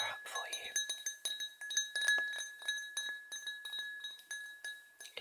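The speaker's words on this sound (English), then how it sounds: "let me just fill this lovely glass" Crystal glass tumbler clinking gently in an ASMR shop roleplay, a quiet run of small, bright ringing taps repeating irregularly, close up, with soft speech at the start.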